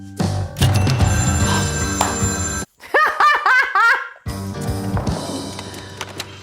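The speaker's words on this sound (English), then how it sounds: "Phone rang a third time." In a movie scene, a telephone bell rings in loud repeated bursts, interrupted by a short gap where a voice reacts with animated, laughing exclamations before the ringing resumes.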